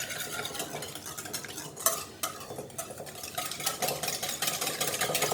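Quiche lorraine ingredients are stirred in a bowl, giving a continuous close scraping and swishing with a few sharp utensil knocks against the side, and no voices.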